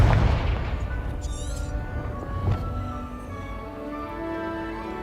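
The Confringo explosion spell in Hogwarts Legacy lands as a loud fiery blast right at the start, then a second, smaller burst follows. Sustained ringing musical tones linger underneath as the rumble fades.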